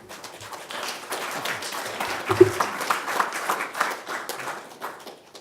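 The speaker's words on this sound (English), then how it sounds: "Now we can applaud our speakers." Audience applause after speakers at a panel on self-driving cars: a swelling patter of many hands clapping at moderate distance, thickening in the middle and then tapering off.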